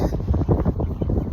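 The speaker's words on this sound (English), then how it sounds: "Ooh, it's getting windy." Gusty wind buffets an outdoor microphone, a loud, low rumbling roar that pulses unevenly throughout.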